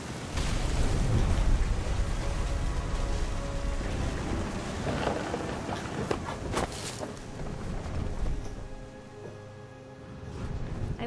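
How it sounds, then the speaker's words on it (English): A heavy thunderstorm in the game What Remains of Edith Finch, with steady loud rain hissing throughout and deep rolling thunder rumbling in the first half before the downpour continues alone, joined by faint musical tones. "The thunder sounded much too close and full of angry power."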